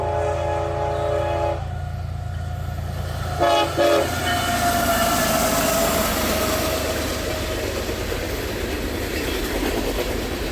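A CSX-led freight train horn blares in two long blasts in Ohio, then the train rumbles past with a steady roar and clattering wheels that carry on to the end.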